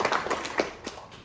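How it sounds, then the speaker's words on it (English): At an evening capstone presentation event, a handful of distinct, sharp claps ring out in an irregular rhythm, sounding like scattered applause from a small audience starting up, moderately close. "let's give a round of applause."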